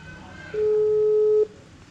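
A mobile phone being dialed gives off a single steady call tone. It rises out of faint background noise, holds for about a second and then cuts off.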